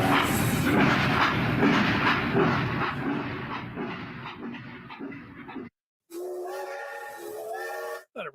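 A hype train sound effect plays during a Michigan football stream: a loud, rushing, hissing roar, then after a brief silence a harmonic, whistle-like blast that cuts off abruptly.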